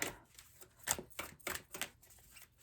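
Tarot cards being shuffled briskly, with several sharp riffling bursts and flicks in an irregular rhythm, fairly quiet and close.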